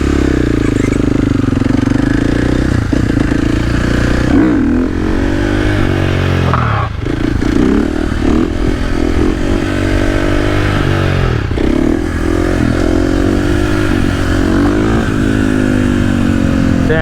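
A Supermoto motorcycle engine roaring close by while riding, loud and continuous, rising and falling through several throttle blips and gear changes with wind rush underneath.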